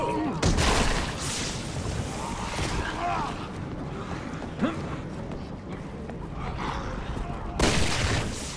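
Several sharp gunshots crack out at uneven intervals in Resident Evil 6, fired by Leon against zombies in Tall Oaks, loud and close over a busy background of wind, ambience and a voice.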